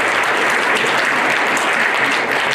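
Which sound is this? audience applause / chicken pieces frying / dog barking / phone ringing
audience applause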